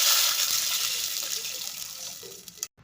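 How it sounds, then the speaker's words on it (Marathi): Two glasses of water poured steadily into hot oil in a pot for a dalcha rice dish, a loud continuous hissing gush that tapers slightly before ending abruptly, with a brief splash at the close. "या तेलामध्ये आता मी 2 ग्लास पाणी घालून घेणार आहे।"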